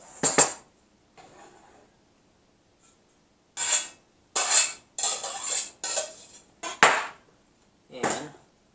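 Chopped food, with ground pork to follow for meatball soup, scraped from a board into a bowl: several bright metallic scrapes and clinks in short bursts separated by pauses, close and fairly loud, with no talking.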